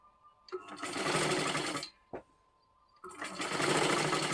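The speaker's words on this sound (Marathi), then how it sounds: "आता इथून आपल्याला हे शिलाई करत करत घ्यायचं आहे" A sewing machine stitches piping onto a silky blouse, running in two steady, loud bursts separated by a short pause and a brief whir, with no talking.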